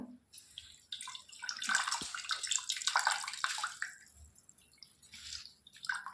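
Leafy greens soaking and being swished about in a basin of water, with continuous splashing, dripping and sloshing close by that swells and ebbs for several seconds.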